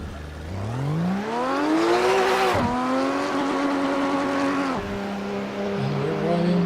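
A race car in the Assetto Corsa racing game drives on a custom track, its engine revving up steadily through the gears with two sharp dips at gear changes, loud and continuous with no talk.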